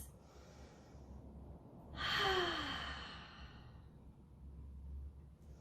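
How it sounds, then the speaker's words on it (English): A deep, audible breath drawn and released once during a full-body stretch in a home water-jug workout, a single soft sigh-like exhale standing out from quiet room hum. "Deep breaths."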